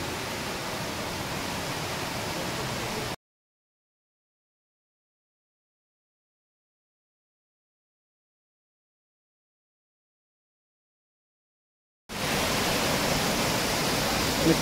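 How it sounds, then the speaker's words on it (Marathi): A forest waterfall at Guhagar in the Konkan, fresh after rain, gives a steady, dense rushing roar. It drops to complete silence for several seconds midway, then resumes just as loud. "हा धबधबा आहे निसर्गाचा."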